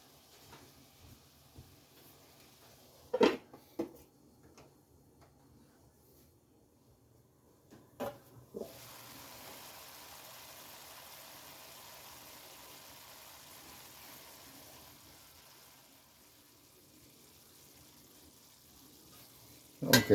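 Onions cook under a lid in a covered pan, giving a faint, steady sizzle that swells slightly midway, broken by a few sharp clinks and knocks of the pan or lid.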